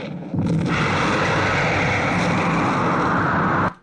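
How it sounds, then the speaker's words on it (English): The spaceship Nostromo explodes in the film Alien, a sustained roaring blast with a rumbling, noisy wash that holds steady for several seconds before cutting off abruptly. "She goes in the shuttle, and the Nostromo blows up."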